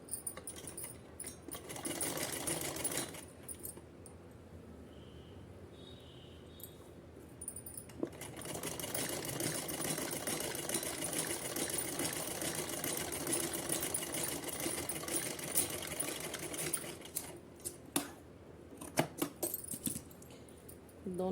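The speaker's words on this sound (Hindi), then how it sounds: "तो ऐसे मोड़ के हमें सिलाई लगा देनी है। तो चलिए इस पर भी सिलाई लगा लेते हैं।" A sewing machine stitches down a folded dress hem on a small deity outfit, running steadily for long stretches with brief pauses between runs of stitching, close and fairly loud with no talk.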